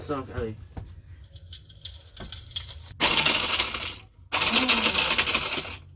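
Charcoal pieces are ground for black powder in bursts of loud, harsh rattling and crushing, two long grinding runs separated by a short pause, with a brief spoken word and clatter beforehand.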